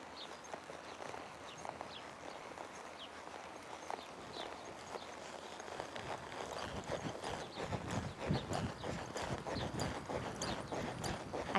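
A horse walks steadily on a dirt arena during a colt-riding lesson, its hooves clip-clopping in a repeating rhythm that grows louder toward the end, with faint birds in the background.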